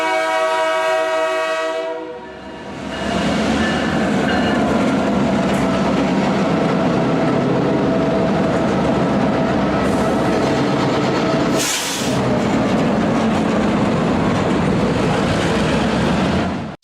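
A train runs steadily along the rails with a continuous loud rumble and rattle, a sustained horn tone sounding at the start before the horn cuts and the rolling noise carries on without pause.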